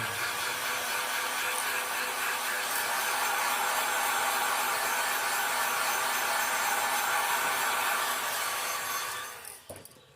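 A heat dryer blows steadily on a freshly painted crawfish lure, a loud, even broadband whoosh lasting several seconds before it is switched off and cuts away near the end.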